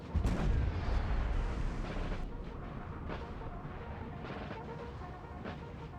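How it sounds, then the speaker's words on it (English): Russian artillery in a Napoleon Total War 3 battle booms loudly at the start, followed by a rumbling roar and scattered distant cannon shots. "these guys are getting pounded by some Russian guns"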